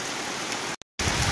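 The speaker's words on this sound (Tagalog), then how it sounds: "Ayan, lumalakas na naman po yung ulan." Dense, steady rain hissing loudly, broken by a brief silent gap before the heavy downpour resumes.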